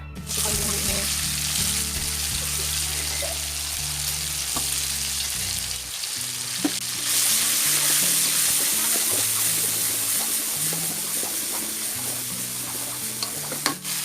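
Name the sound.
sautéing ingredients in a pan for stuffed squid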